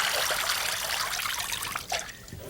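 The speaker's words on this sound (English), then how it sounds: "First of all, drain the water out of the colander." Rinse water drains out of a colander of rice, a close, splashy trickle that pours steadily, then thins out with a brief spatter near the end.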